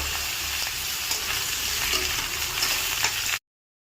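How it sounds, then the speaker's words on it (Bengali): Boiled jackfruit pieces fry in hot oil in a wok with a steady, close, dense sizzle that runs unbroken before cutting off abruptly. "এখন সিদ্ধ করা কাঁঠালগুলো তেলের মধ্যে ছেড়ে দেবো। তো একটু ভাজা ভাজা করে নেব"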